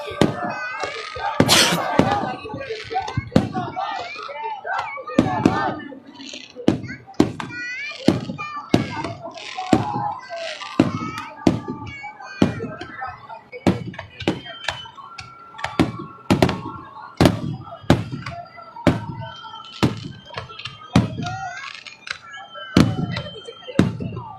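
Independence Day fireworks burst over Minar-e-Pakistan, a long run of sharp booms and crackles at irregular intervals amid a crowd with children, while someone talks over much of it.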